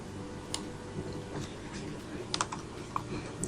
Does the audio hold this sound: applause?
no